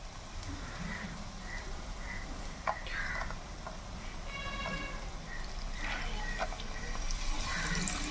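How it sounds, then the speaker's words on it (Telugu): Tamarind pulp liquid poured into a pot of Nellore-style fish curry, a soft wet pouring and trickling spread over several seconds, moderately faint, with kitchen background hum and occasional light clinks, no talking. "చింతపండు పులుసు బాగా కలుపుకొని గుజ్జుగా ఇందులో పోసుకోవాలి"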